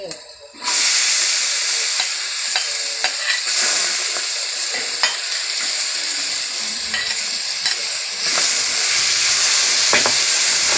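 Shallots frying and being stirred in a pan before tomatoes go in, for a vegetarian Thai dish: steady loud sizzle with scraping stir strokes throughout, no talk.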